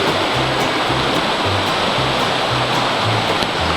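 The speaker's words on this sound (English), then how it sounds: "All kinds of minor rapids." Creek water rushing over minor rapids along the John Muir Trail, a loud, steady broadband roar of flowing water, continuous and close, with no talking.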